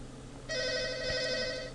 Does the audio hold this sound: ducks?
no